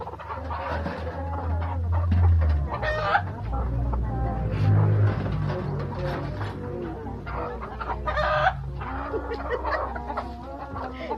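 A chicken clucks in short bursts close by, its calls mixed with people talking and a low background rumble throughout.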